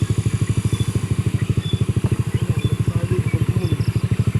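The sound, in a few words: motorcycle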